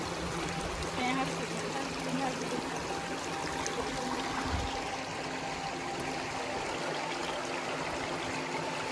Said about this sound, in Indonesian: enaknya di pinggir sungai.